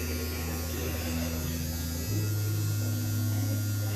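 Steady electrical hum of a sterilizing machine running alone, a constant low drone that shifts to a slightly deeper, louder tone about halfway through.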